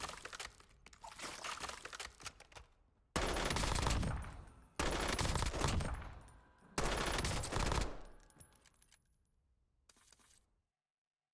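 M4 assault rifle gunfire in the shooter Warzone: several loud sustained bursts of automatic fire, each cut off abruptly, separated by short gaps, with a final brief burst before silence.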